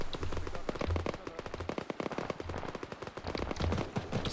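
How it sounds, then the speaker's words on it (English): Machine gun fire in the ArmA military game rattles in rapid, sharp repeated shots throughout, loud and close with brief uneven pauses between bursts, and no talking over it. "I don't know what they're shooting at."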